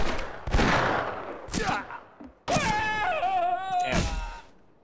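Several loud gunshots in the Western shooter game Fistful of Frags, on a snowy winter map, come in separate bursts, mixed with pained groaning and game sounds.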